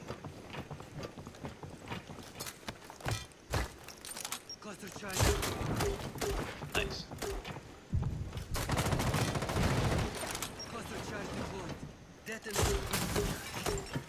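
Gunfire in Rainbow Six Siege during a House map team deathmatch, with loud bursts and broken shots coming in clusters that fill much of the stretch, mixed with clattering game effects, while players talk over it.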